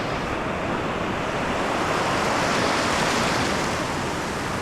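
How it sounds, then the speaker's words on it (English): Ocean surf breaking steadily on an Australian beach with barely a lull between waves, a dense, continuous roar of loud wash and foam throughout, faint wind over the microphone and no voices. "Not getting much of a break in between waves here."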